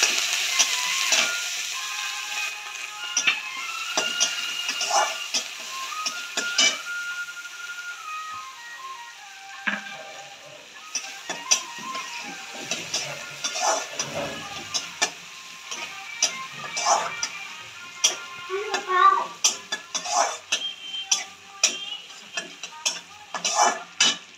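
Chopped onion frying in a pan for lau pata vorta, a bottle gourd leaf mash, gives a soft steady sizzle with scattered crackles and pops that grow denser toward the end, no voices.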